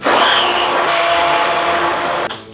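A food processor blends duck stuffing in a loud continuous motor whir with a churning mix, running steadily for about two seconds before cutting off abruptly near the end.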